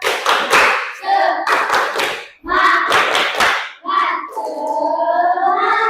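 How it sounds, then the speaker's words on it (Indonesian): A school class performs a rhythmic spirit clap, bursts of sharp, loud group claps in patterned groups broken by short pauses, with children's chanting voices between and after the clapping bursts. "Boleh diulang, coba tepuk semangat"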